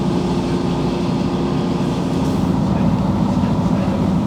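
Steady low rumble and rhythmic clatter of a train rolling along the rails toward Newtown, Wales, constant and close throughout.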